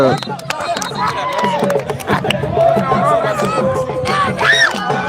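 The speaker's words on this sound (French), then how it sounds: "Là, vous entendez bien sûr les acclamations des supporters de l'AS Tchelao." Football supporters of ASC Tchelao cheering at a local match in the Gamadji Sare zone, a steady crowd roar with shouts and babble running throughout under close commentary.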